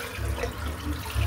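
Hot tap water runs steadily into a sink during a wet shave with soap, giving a continuous low rushing wash with no talking.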